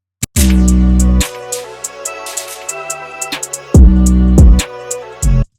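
Booming 808 bass hits punch in under crisp hi-hats and snappy percussion in a modern drill beat, the kick delayed until the second hit, the deep low end dropping out between hits for a hard-knocking beat.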